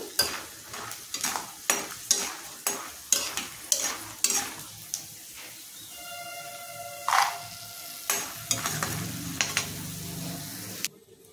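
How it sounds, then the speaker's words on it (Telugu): Bitter gourd frying in a pan crackles and sizzles beneath a run of regular spatula scrapes and stirs, close and fairly loud, ending in a burst of fresh frying. "ఇలా చక్కగా దోరగా వేగితే చాలండి"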